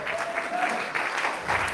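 A congregation at a church revival meeting clapping, a dense burst of applause from many hands with a faint voice underneath.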